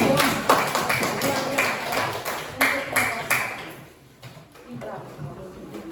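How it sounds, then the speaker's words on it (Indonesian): Short, crisp claps from a small group in a math lesson, in a quick, uneven rhythm for about three seconds. They thin out toward the end, and a voice talks over them. "tepuk tangan untuk"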